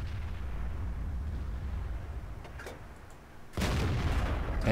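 World of Tanks tank gun fire in a battle by an old city wall: a low rumbling battlefield background, then a sudden loud, sharp cannon blast near the end whose heavy boom carries on to the close.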